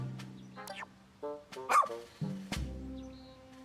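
A cartoonish dog in the video game Pikmin 4 lets out several short barks and yips, spaced irregularly over soft game music, clear and fairly close.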